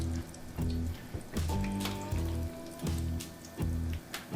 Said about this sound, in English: we're just going to lay these steaks in our shallow fried pan. We're just using vegetable oil in this pan.